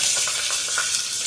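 Cinnamon, fennel seeds and curry leaves sizzling in hot oil in a pan, a close, steady crackling hiss with faint stirring for a brief moment.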